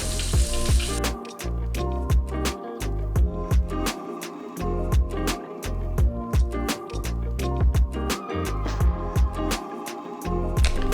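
Starch-coated chicken deep-frying in bubbling oil gives a steady crackling sizzle, heard close up under rhythmic background music.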